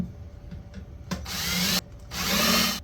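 A power drill bores pilot holes into wood for a birdhouse in two loud sustained bursts separated by a brief pause, preceded by a few soft knocks.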